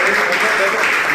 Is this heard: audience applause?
yes